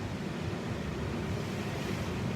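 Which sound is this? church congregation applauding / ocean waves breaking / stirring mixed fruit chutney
ocean waves breaking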